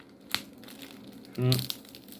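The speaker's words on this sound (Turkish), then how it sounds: "Ben bu poşeti kullanırım o yüzden yırtmamaya çalışacağım." Plastic mail bag from a manga book order being handled and opened carefully, quiet crinkling and a few sharp crackles, with a brief louder rustle near the middle and low room tone.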